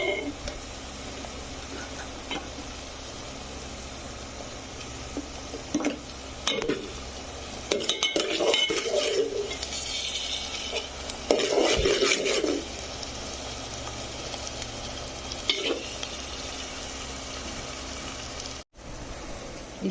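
Sliced onions fry and get stirred in a pan with ginger garlic paste for mutton curry, a continuous soft sizzle with scraping spoon strokes and occasional utensil clinks, while a person talks over it.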